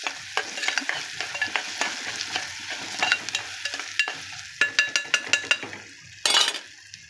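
Onions fry in a pan with a constant sizzle while a spoon stirs and scrapes in quick, uneven strokes, with a sharp metallic clink near the end; close and moderately loud, without speech.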